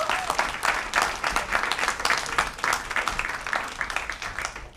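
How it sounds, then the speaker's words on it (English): Audience at a journalism school panel on extremism and antisemitism applauds the guests, a dense, steady wash of clapping filling the room for about five seconds before thinning slightly at the end. "I would just love to give a round of applause for our great guests"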